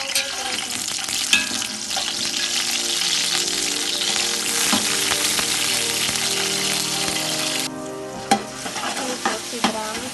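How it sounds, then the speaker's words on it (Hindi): Onions sizzling and frying in hot oil for chicken pulao, a steady loud crackle throughout with occasional stirring clinks and scrapes near the end, no talking. "अब इसमें हम प्याज डालेंगे और प्याज को जो है ना गोल्डन ब्राउन नहीं करेंगे, हल्का सा ब्राउन करेंगे।"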